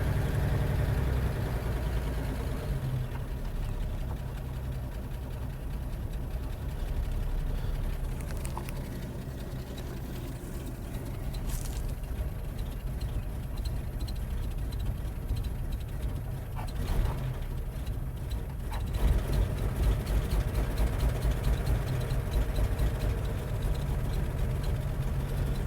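A 1952 Chevy Styleline Deluxe engine with a gas leak idles steadily for the whole stretch, a low continuous rumble with a few brief revving swells and rattles near the end.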